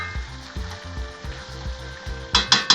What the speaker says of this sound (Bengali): এবার গুড়টা দিয়ে মিশিয়ে দিলাম